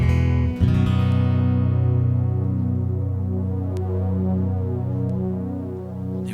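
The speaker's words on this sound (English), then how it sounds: "This is the strings, the string pad." A sustained string pad patch from a guitar effects rig swells in after a brief attack and holds a steady, warm, layered drone with slow throbbing, loud and alone.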